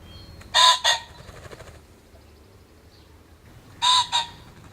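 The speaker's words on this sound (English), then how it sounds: "here's the noise of the real pheasant" Two bursts of a ring-necked pheasant's crowing call, a harsh double-noted squawk heard once near the start and again near the end, moderately loud against a quiet background with no talk.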